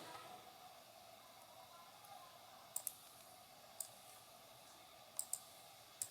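Computer mouse clicks in Microsoft Word, a handful of faint, sharp clicks, some in quick pairs, over a quiet steady hiss with no talk.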